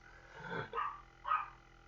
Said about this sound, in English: if you hear any barking in the background